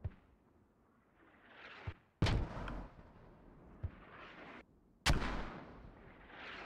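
Mortar fire in the military shooter Squad: two heavy distant blasts with long rumbling tails, each preceded by a sharp launch thump, with quiet gaps between them.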